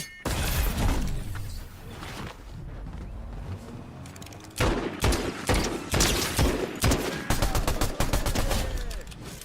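Gunfire in a Fortnite match: rapid volleys of shots, some sustained and some in short clusters, loud and dense with clattering mechanical game sounds and no talking.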